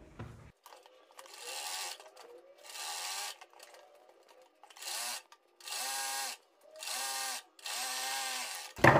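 A sewing machine stitches kurti fabric in repeated bursts of motor whirring, each lasting about a second, with short pauses between runs, close and clear.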